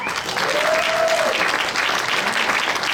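An audience at a film and arts festival VIP party gives steady, dense applause for several seconds, with a faint voice briefly audible within it.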